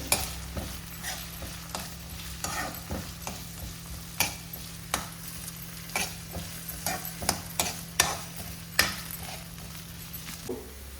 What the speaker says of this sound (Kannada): ಆಮೇಲೆ ಬೀನ್ಸ್, ಫ್ರೈ ಆಗಲಿ ಸರಿಯಾಗಿ